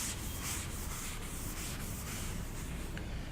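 A cloth or eraser is rubbed back and forth across a writing board in a classroom, a steady close scrubbing with rhythmic strokes about twice per second and no talking.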